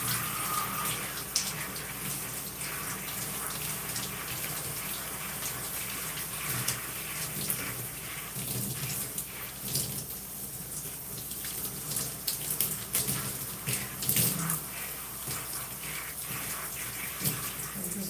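Tap water runs steadily into a basin while hair is rinsed, a continuous close hiss and splash with small fluctuations, no talk over it.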